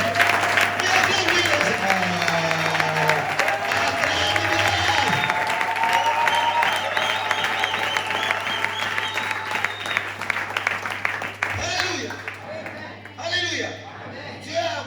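A church congregation applauds and acclaims the Lord, loud sustained clapping and cheering with voices throughout, thinning and breaking up toward the end.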